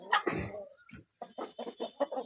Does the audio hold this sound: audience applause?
no